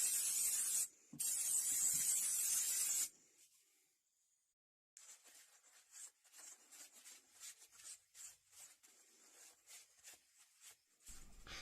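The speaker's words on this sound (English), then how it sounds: "let's give it a spray now" Two loud hissing bursts from an aerosol can sprayed onto an antique metal wrench, then a pause and a series of short, softer sprays and rubbing sounds.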